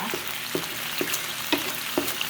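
Chicken pieces browning in a hot pan for a creamy lemon basil chicken dish, a steady soft sizzle with a few brief stirring clatters spaced about half a second apart.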